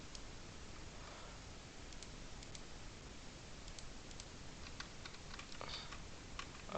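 Rapid, steady clatter of computer keyboard keys under a constant hiss of background noise, typed close up with no pauses and no talking.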